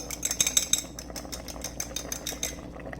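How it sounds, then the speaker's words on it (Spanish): An egg being whisked in a bowl with a fork or whisk: quick, light clinking and scraping strokes in a steady rapid rhythm, close and fairly quiet. "Voy a batir este huevito"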